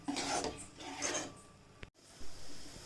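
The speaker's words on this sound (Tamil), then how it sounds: "அல்வா அந்த பதம் வர வரைக்கும் நல்லா நீங்கள் கிண்டிகிட்டே இருக்கணும்" Coconut halwa being stirred in a pan, soft close scraping and rubbing strokes in a slow rhythm, faint, with a brief silent gap near the end and no talking.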